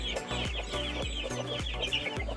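A hen clucks repeatedly close by among her chicks, with short rhythmic clucks over faint high chick peeps and a busy outdoor background, no clear talk.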